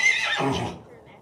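A rescued horse gives a single loud whinny up close, a high shrill call that drops and trails off into quiet within about a second.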